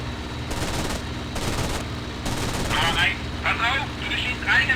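Aircraft machine guns fire in IL-2 Sturmovik (2001), heard as several short, close bursts of rapid shots over a steady engine drone, with a gritty crackling rattle toward the end.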